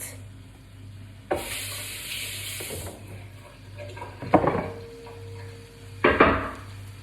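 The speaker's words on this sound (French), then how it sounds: "quand vous entendez que ça frémit un peu comme ça, c'est tout à fait normal, parce que du coup vous avez mis de la matière grasse avec un légume" A vegetable cooking in fat in a pan gives a soft, steady sizzle and simmer. Louder bursts come through as it is stirred and as pan or utensil noises clatter.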